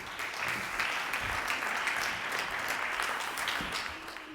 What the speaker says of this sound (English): For those who came in late, that applause was for me.